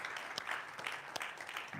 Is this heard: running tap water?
no